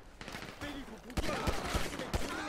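Pistol gunfire in the video game GTA 5, heard as several sharp shots spaced irregularly, mixed with game ambience and someone talking.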